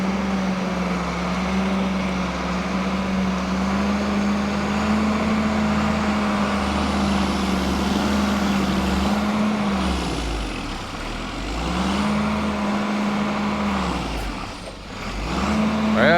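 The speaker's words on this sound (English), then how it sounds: "he's gonna put it in 4th gear and hit the brake, see if it stalls the engine" Diesel tractor truck engine lugging in 4th gear against the applied brakes during a shop test, a loud steady low drone that sags and recovers twice as the load pulls it down, without stalling.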